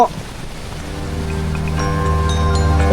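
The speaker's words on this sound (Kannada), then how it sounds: "ಇವಾಗ ಮಳೆ ಬೇರೆ ಸ್ಟಾರ್ಟ್ ಆಗೋಯ್ತು" Rain begins pattering and builds steadily in a gorge in Tyrol, Austria, a soft hiss of drops on surfaces swelling louder over a few seconds, with faint tonal hum underneath.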